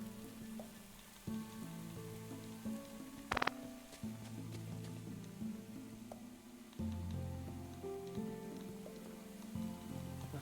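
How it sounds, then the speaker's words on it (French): Steady rain patters through the One Lonely Outpost video game, a soft continuous hiss beneath tonal in-game music and chimes, with no one speaking. "Il pleut!"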